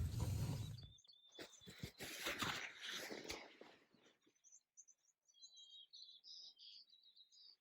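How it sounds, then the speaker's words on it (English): Birds chirp and call at a riverside kayak camp on the Colorado River in the morning, high, bright bird calls repeating after a stretch of rustling and handling noise, fairly quiet overall. "I guess when you hear the birds like that, that means it's time to get up."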